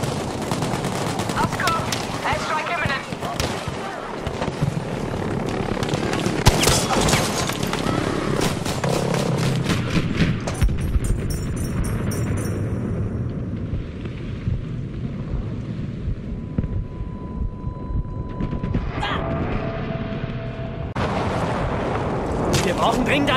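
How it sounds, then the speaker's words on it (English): A JB2 airstrike in a video game pounds the area with a long barrage of loud, overlapping explosions and rumbling blasts that keep rolling for over twenty seconds, thinning toward the end with scattered later booms. "JB2 airstrike!"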